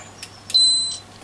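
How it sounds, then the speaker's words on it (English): An ESR meter gives a single electronic beep while testing a 4.7 capacitor in a Sony ICF-2001D receiver repair, a short steady high tone after two faint ticks, close and clear with no talking. "It's only given 1 beep because it thinks it's a bit high"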